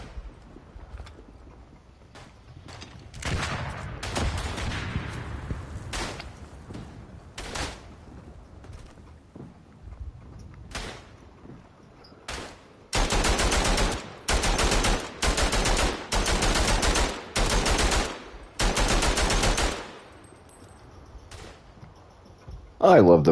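Machine gun fire in the WW1 trench shooter Verdun: scattered single shots and distant crackles early on, then several loud, sustained automatic bursts in close succession, with a voice talking over part of it.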